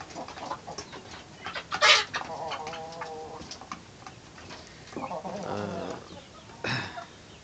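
A broody hen in a cage with chicks gives clucks and agitated squawks in short bursts, close by, with faint chick peeping and some background sounds between calls.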